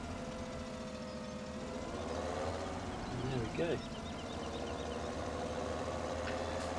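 A tractor engine idles steadily in Farming Simulator 17, a low continuous rumble held under a man's speech, with a brief bump as the machine hits something.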